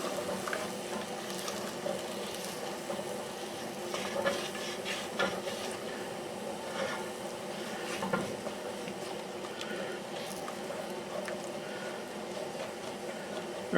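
A spoon scrapes and stirs across the bottom of a pot of lentil stock, giving a steady close-up patter of scraping strokes over a low bubbling simmer, with no talk.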